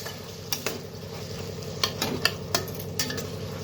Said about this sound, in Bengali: তো ভালোভাবে নেড়ে চেড়ে নিই